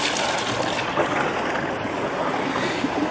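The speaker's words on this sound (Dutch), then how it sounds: "Oh, boegschroef." A loud, continuous churning rush of water and motor noise from a boat's bow thruster, close by and steady throughout, at night in Amsterdam.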